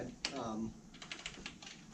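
Keys on a theatre lighting console keypad are tapped in a quick irregular series of light clicks, close and fairly quiet, with a brief burst of speech near the start.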